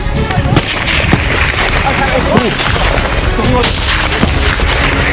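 Police fire several gunshots to disperse encroachers in the Ultapani reserve forest on the India–Bhutan border, sharp and spread across a few seconds over a noisy crowd and voices.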